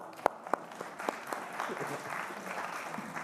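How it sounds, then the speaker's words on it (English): Audience applause at an annual meeting, opening with a few sharp separate claps that build into a steady, moderate round of clapping, with some talk underneath. "Let's give you a round of applause."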